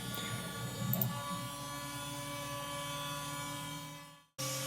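A CNC machine cuts the contour and heel shape of a guitar neck, giving a steady, loud whining drone with harmonic hum that runs nearly unbroken before cutting out briefly and resuming.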